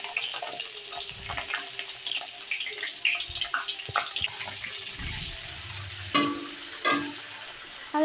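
Vegetables sizzling and frying in a pan while cooking for chowmein, a steady crackling hiss with occasional stirring scrapes and a couple of louder clinks, close up and without talk.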